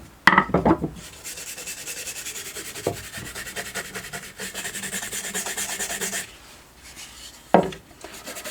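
Steady scratchy brushing of sanding dust out of the checkering on a Ruger M77 rifle stock, framed by a few sharp knocks and taps at the start and end.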